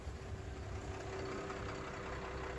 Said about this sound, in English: Here we got the motor running here.